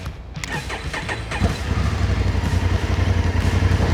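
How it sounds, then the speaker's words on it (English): A 2024 Honda CRF1100 Africa Twin adventure motorcycle starts up and settles into a steady, close idle rumble, with a few sharp mechanical clicks before the engine catches. "So the first test my team has designed for me is to get this big bike into a U-turn."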